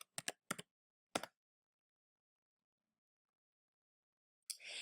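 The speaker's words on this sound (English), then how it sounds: "And then I'm going to type in my password." A few quick keystrokes on a computer keyboard while entering a password, a short cluster of clicks followed by silence and another brief burst at the end.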